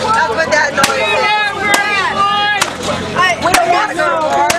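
A veteran bangs a protest sign against a wall outside the 2016 Democratic National Convention, giving loud sharp slaps spaced about a second apart amid crowd noise and someone speaking.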